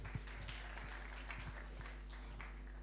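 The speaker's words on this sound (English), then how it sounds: "let's clap for the traveling theater." An audience at a celebration of a decade of Peace Brigades International in Kenya applauds a traveling theater group, a faint, distant, steady patter of clapping over a low steady hum.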